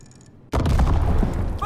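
A bomb planted on an artillery gun detonates in the Call of Duty WWII video game: after a quiet half second, a loud, booming blast erupts and keeps rumbling, thick with debris and battle noise.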